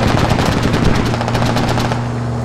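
Rapid automatic gunfire from the military shooter game Squad, a loud, close burst of evenly spaced shots lasting about two seconds before trailing into a steady engine hum.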